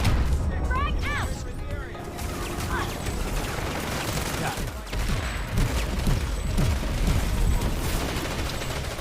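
A frag grenade blast amid a chaotic PlanetSide 2 battle, with booming explosions and bursts of gunfire piling up over several seconds, and voices talking underneath the loud fighting.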